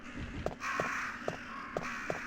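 Crows in the forest in Resident Evil: Director's Cut caw in a steady run of about five harsh calls, evenly spaced over a continuous low ambient hum.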